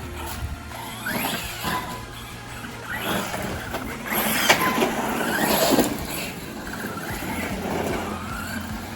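A Hongnor HNR H9901 brushless 1/8-scale RC monster truck whines and revs as it drives and pops wheelies off-road, motor pitch rising and falling in repeated bursts over steady background noise.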